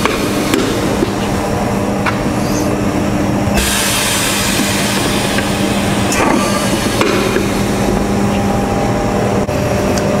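Automated planisher machine running in a metalworking shop, a continuous loud mechanical hum and rattle with scattered sharp clanks and one burst of hissing air partway through, no voices.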